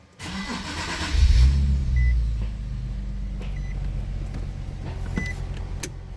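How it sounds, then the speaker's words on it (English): Nissan 370Z with a recently replaced fuel pump cranking and firing up, the engine surging loudly before settling into a steady idle and rolling off, with a few small clicks inside the cabin. "Let's go out for a test drive."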